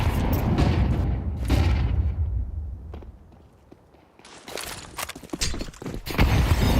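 A grenade goes off during a Counter-Strike match, with a heavy boom early on, a brief quieter lull, and then a busy stretch of sharp gunshots and impacts.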